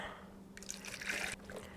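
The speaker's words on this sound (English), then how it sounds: "I'm gonna pour it into this container" Freshly mixed ceramic glaze pours into a container with a soft, faint liquid trickle and splash that rises for about a second and then stops, without any talking.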